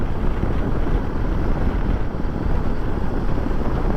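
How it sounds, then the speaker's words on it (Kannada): Loud, roaring wind buffeting the microphone while riding a Hero Xpulse motorcycle near Markonahalli Dam, a constant rumbling blast with no letup, as when riding fast into a strong gust. "ಬಟ್ ಸಿಕ್ಕಾಪಟ್ಟೆ ಗಾಳಿ ಇದೆ"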